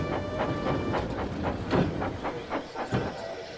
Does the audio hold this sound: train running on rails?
yes